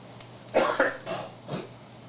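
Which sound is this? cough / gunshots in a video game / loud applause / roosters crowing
cough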